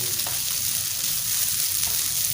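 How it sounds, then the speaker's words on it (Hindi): Chicken sizzles steadily in hot oil for desi shawarma, a constant bright crackling hiss that stays loud and even from start to finish, with no talking. "हमने उस वक्त तक इसको भूनना जब तक ये बिल्कुल गोल्डन गोल्डन और साथ में इसकी खुशबू आना शुरू हो जाएगी"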